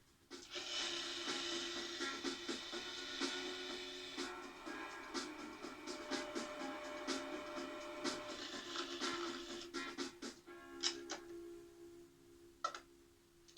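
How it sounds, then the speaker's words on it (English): A food processor blends cheddar shortbread dough, its steady mechanical whir and rattle running continuously for about ten seconds before cutting off, followed by a few sharp clicks and knocks. "now I can turn the food processor on and let the dough come together"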